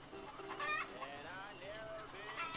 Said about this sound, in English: Got them nice, long-legged, Rhode Island Red chickens.